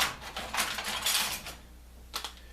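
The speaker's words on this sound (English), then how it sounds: "Let me just cut the package open" A package of replacement parts for an Icom IC-746 radio repair is cut open nearby, giving a crinkly, scraping rustle for about a second and a half, then a couple of small clicks.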